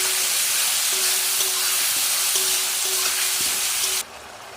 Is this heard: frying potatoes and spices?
yes